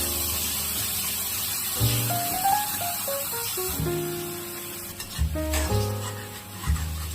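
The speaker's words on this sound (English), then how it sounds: "Now we will roast the mango puree until it gets thick." Mango puree with condensed milk cooks in a pan, giving a steady sizzling hiss with scraping stirring strokes and occasional spoon knocks, while soft background music plays throughout.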